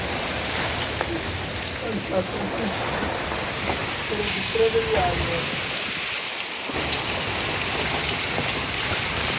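Heavy rain pours down during a sudden storm in Lahore, a steady dense hiss of downpour close by with faint rumbling, while people talk intermittently over it.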